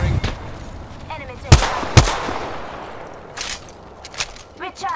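Gunfire in the battle royale game Apex Legends: two sharp, loud shots stand out early, followed by scattered fainter bursts and crackles, with in-game voice lines around them.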